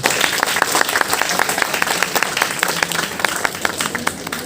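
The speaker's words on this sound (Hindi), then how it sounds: "एक बार जोरदार तालियां हो जब।" Audience at a university food carving and open mic event breaking into steady, vigorous applause, a dense patter of many hands clapping throughout.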